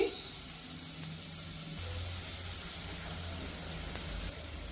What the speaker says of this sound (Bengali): মিডিয়াম টু লো আছে 2 মিনিট ভেজে নিই।